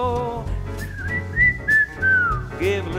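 A person whistles a tune with clear, sustained melodic notes that rise and glide between pitches, loud and close, with soft backing music beneath.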